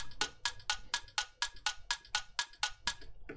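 Synthesized clock tick-tock with stereo effects: eleven evenly spaced crisp clicks about a third of a second apart, bright and close, alternating slightly in tone, with no voices.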